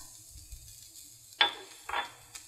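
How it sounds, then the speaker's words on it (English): Brussels sprouts crisping in a pan with lemon zest: a faint low sizzle underneath, broken by two short bursts of scraping and clatter as they are stirred around, plus a light tap near the end. "Stir these around, and they take about 4 to 5 minutes to cook so that they get really crispy."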